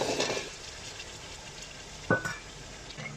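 Potatoes tipped into a pan of sizzling masala for Punjabi-style aloo matar pulao, giving a sharp burst of frying sizzle over a steady background hiss of cooking, with a brief clatter near the end.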